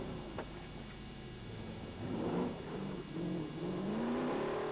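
Rally car with a Holden engine at a 1984 forest rallysprint, engine note rising and falling as it accelerates, moderately distant with steady background noise.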